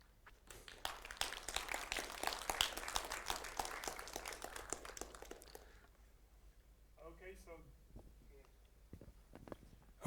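A conference audience claps after a talk, a burst of dense applause for several seconds that fades out, followed by a few words from a nearby voice.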